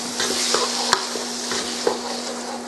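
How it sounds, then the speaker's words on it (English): A spoon stirs flour into a hot mixture in a pan for shepherd's pie, with steady scraping and light sizzling and occasional clinks against the pan, no talking. "Continue to mix until all the flour is incorporated well."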